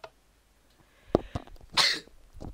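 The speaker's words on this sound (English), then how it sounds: "Too bad I sneezed." A person sneezes once, a sharp, breathy burst close to the microphone, preceded by a couple of short intakes and clicks and followed by faint breathing.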